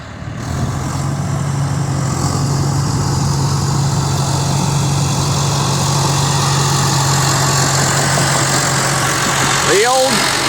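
John Deere 550G bulldozer engine running steadily at a low idle-like rumble, loud and close, with a constant droning hum throughout while working skid roads in muddy timber-harvest ground; a brief chirp near the end.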